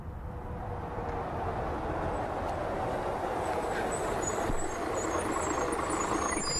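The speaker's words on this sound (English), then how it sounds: "Oh! Here's your bus." A large bus in a video game idles and rumbles steadily, with faint high beeps and a brief hiss near the middle, like a bus pulling up.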